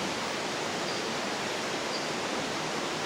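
Steady broadband rush of a river flowing through a forested valley, constant and fairly loud with no breaks, like water running close by.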